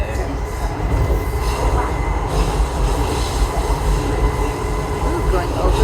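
A DLR driverless train runs along its rails, a steady loud rumble of wheels and car noise with faint squealing, heard from inside, while passengers talk under it.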